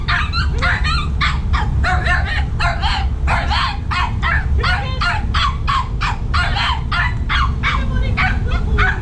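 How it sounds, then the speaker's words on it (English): A five-month-old Miniature Schnauzer puppy barks loudly and incessantly in rapid, sharp yips close by, the bursts coming almost without pause and continuing alone throughout. "he likes to bark at anything and everything that he can see"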